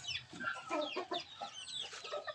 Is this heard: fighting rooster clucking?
yes